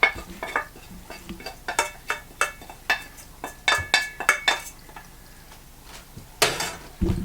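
Tomatoes and garlic go into a pot of bowtie pasta and peas, making a series of close, rhythmic clinks and scrapes of a utensil against the pot, with soft stirring between them.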